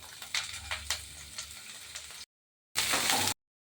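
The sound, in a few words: onions frying in hot oil with cumin seeds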